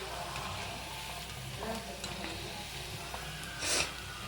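Cauliflower pieces for Gobi 65 deep fry in hot oil, giving a steady broadband sizzle and bubbling hiss that holds throughout, with a brief louder burst of spattering near the end and no voices.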